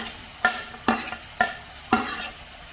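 Chopped onions and tomatoes sauté in a pan as the base for a chicken keema dosa filling, a soft sizzle broken by four evenly spaced scraping stirs of a spoon, close and without speech.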